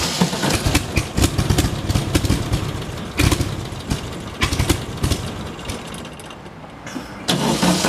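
A dune buggy engine sputters right after starting, running rough and uneven with irregular bursts and dips, loud and close, then briefly quieting before revving up again at the end.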